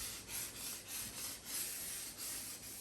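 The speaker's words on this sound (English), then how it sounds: "This is 600 wet and dry, so it's not really sanding a hell of a lot." Hand-sanding guitar fret ends with 600-grit wet and dry paper, a soft, close rubbing scrape repeated in quick back-and-forth strokes, about three per second, with no talk.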